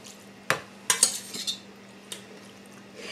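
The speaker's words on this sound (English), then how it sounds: "I'm just going to start spooning the squash right in there." Cooked yellow squash and onion are spooned into a casserole dish for a Southern summer squash bake, with a few sharp, close spoon clinks and soft wet scrapes scattered over a quiet background.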